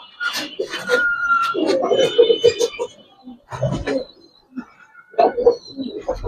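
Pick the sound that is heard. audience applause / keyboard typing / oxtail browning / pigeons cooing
pigeons cooing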